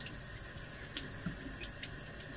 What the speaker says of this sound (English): rinse in warm water